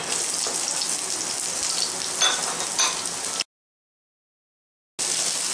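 Garlic and onion frying in hot sesame oil for a beef sotanghon stir fry give a steady, close sizzle that breaks off into brief silence before resuming.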